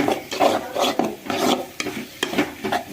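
Egg being stirred in a pan as it fries, a scraping rhythm of spatula strokes over a steady sizzle, close and fairly loud, with no voices.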